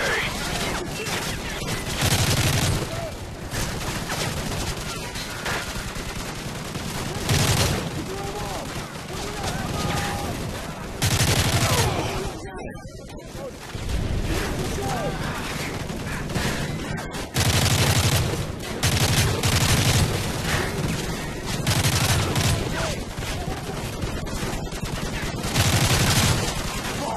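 Remote turret and machine gun fire in the Modern Warfare 3 campaign: loud, repeated rapid bursts and volleys with booms. Gaps fall between bursts, and voices speak in French at times.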